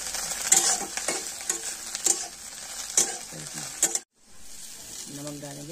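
Egg bhujiya frying in a pan and being stirred, close up, with bright sizzling and repeated scraping strokes of a spatula, a short pause, then a brief voice.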